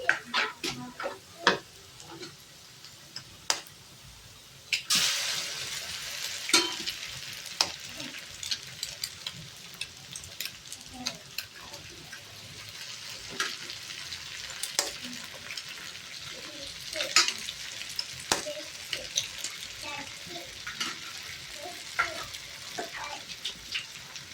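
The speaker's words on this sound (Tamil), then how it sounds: "இப்போ முட்டையோட சுட்டிக்கலாம்." Steady sizzling of wheat noodles frying with egg in a hot pan, with frequent scraping and clinking of a utensil stirring, close and fairly quiet.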